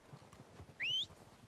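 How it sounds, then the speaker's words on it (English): Horses approaching in a video game, with soft, steady hoofbeats clopping along and one brief, high whinny cutting through midway. "They're coming down with the horses."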